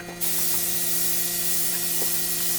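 Lacquer is sprayed onto handmade speaker cabinets: a close, continuous hiss starts abruptly and holds steady, with a faint background hum.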